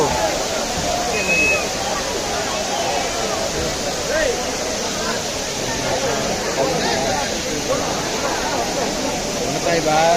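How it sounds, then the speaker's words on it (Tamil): Courtallam waterfall in Tamil Nadu pours down in a loud, steady rushing roar, with a crowd's babble and voices mixed beneath the continuous water noise. "மேலே இருந்து தண்ணி ஊற்றுது."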